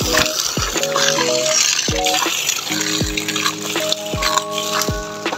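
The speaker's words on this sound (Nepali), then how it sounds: "एकदम राम्रो छ यो पानी" Water from a mountain spring flows in a constant splashing gush outdoors, with clear tonal sounds and a few sharp knocks sitting on top of the flow.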